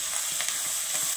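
Garlic, shallots and curry leaves sauté in a pan for a Tamil dried-turkey-berry tamarind curry, giving a steady close sizzle with faint scraping stirs and no talking.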